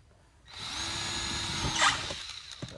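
A power drill drives screws into a cattle barn fitting in Sivas, a steady whining motor run of about a second and a half that rises briefly under load, then stops with small clicks.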